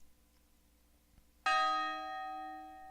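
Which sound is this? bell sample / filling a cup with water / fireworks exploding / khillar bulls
bell sample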